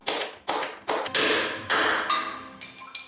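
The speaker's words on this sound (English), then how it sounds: "Remove this metal hat with a chisel and don't reuse it." Repeated sharp metal-on-metal knocks as a chisel drives the metal cap off a rear strut on a fourth-generation Toyota 4Runner, about seven loud close strikes at irregular intervals with short ringing decays.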